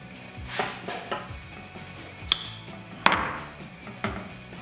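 Sharp clinks and chopping thumps from cutting off excess gasket material while fitting an aFE Magnum FORCE Stage 2 Track Series cold air intake on a HEMI Charger, several scattered hits over a few seconds, close, with no speech.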